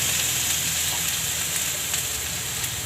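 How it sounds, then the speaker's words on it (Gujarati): Ginger, garlic and chili paste sizzles loudly in hot oil in a pan, a dense continuous frying hiss with no pauses and no talking. "અને આદું લસણ ને મરચાંની પેસ્ટ નાખી દેવું"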